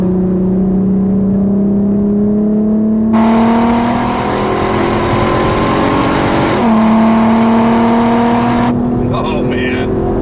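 A 2008 Volkswagen R32 engine roars loudly from inside the cabin, revving up through the gears with rising, steady pitch and a brief shift break, with a voice talking over it.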